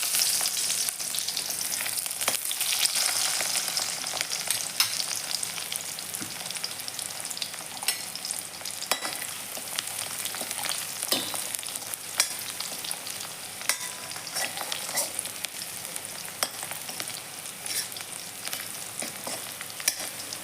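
Garlic sautéing lightly in a pan, a steady close sizzle of frying with occasional stirring scrapes running throughout, no voices.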